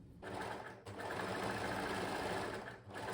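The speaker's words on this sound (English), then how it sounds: "I've now overlocked this side of the dress" An overlocker runs in fast continuous bursts along the seams of a mesh stretch dress, close and loud, with brief pauses near the start and end of the run.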